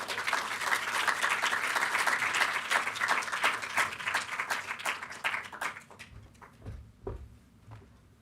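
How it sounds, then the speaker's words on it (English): Dense audience applause at a green games summit and awards ceremony, welcoming panelists onto the stage; it is loud and sustained for about six seconds, then thins into scattered claps that fade out. "please could you give them a round of applause on the way up?"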